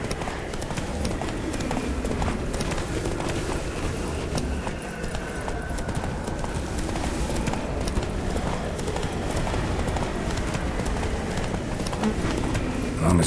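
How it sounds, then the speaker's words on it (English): Hooves pound in a fast gallop as the horse Roach races along in The Witcher 3, a dense, continuous clatter of rapid hoofbeats, loud and close, with game noise mixed in. "Run, Roach"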